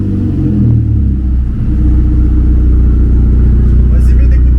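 An ABT-tuned Audi TTS Mk2 with a full Decathlon exhaust line starts with a low rumble and settles into a loud, steady idle, recorded close by in the rain.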